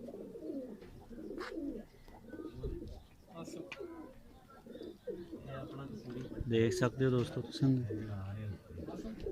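Pigeons coo in a rooftop loft, with soft repeated low throaty calls and a few chirps mixed under someone talking nearby.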